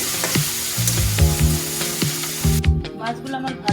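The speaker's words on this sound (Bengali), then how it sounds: "আমি প্রথমে মাছটা ভেজে নিচ্ছি।" Small chapila river fish sizzle and crackle in hot oil in a pan, a steady frying hiss broken by scraping and stirring knocks from a utensil near the microphone.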